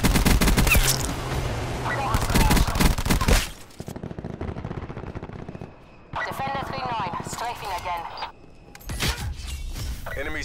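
Heavy strafing gunfire from a support aircraft in a first-person shooter rips through a loud opening burst, then quieter stretches with radio voices and further rattling fire.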